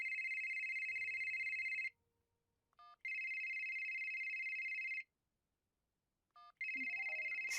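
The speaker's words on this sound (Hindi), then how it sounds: "इस टाइम वकील साहब का फोन।" Electronic telephone ringtone in a horror comedy drama, sounding in two long repeated bursts separated by short pauses and brief tones, loud and close with no talk.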